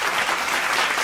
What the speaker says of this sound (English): You can clap it up for that.